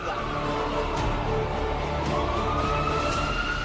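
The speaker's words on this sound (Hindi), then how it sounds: "ये देखिए भगदड़ मचते ही एम्बुलेंस आने का सिलसिला शुरू हुआ।" Ambulance siren wailing with a rising tone at the Kumbh Mela stampede site during the Mauni Amavasya holy bath near the Sangam, sounding steady and fairly loud over dense crowd noise.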